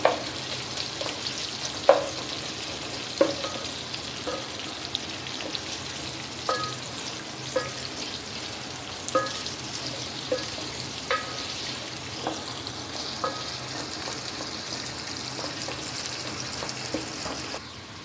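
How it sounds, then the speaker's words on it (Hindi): Onions fry in a pan for a potato and eggplant curry, giving a soft continuous sizzle. Sharp clicks and scrapes of a spoon stirring recur every second or two, with no talking. "प्याज को हमें सिर्फ इतना पकाना है कि ये हाफ टर्न हो जाए, लाइट सी बिल्कुल गोल्डन ब्राउन होगी।"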